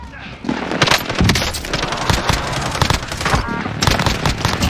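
Dense bursts of video game gunfire, rapid automatic shots and impacts rattling on loudly and close for several seconds with barely a pause.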